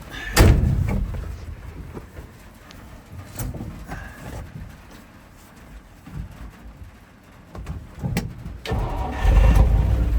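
An old truck at an estate sale of Power Wagons and vintage vehicles is started: a door thud, then uneven cranking and a low engine catch that grows louder toward the end, all heard close by.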